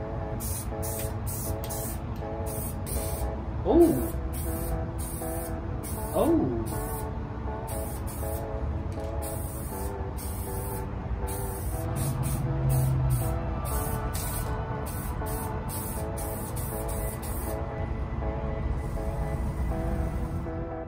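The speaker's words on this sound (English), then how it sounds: "I'm actually gonna try this gold spray paint" Gold spray paint hisses in short, repeated bursts onto a Nintendo Switch, each spray stopping and starting over steady background music.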